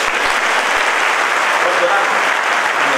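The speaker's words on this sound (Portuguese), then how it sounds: "Podemos aplaudir a Jesus?" Church congregation applauding Jesus at a 2018 convention service, a dense steady wash of clapping filling the whole stretch, loud and close, with no pauses.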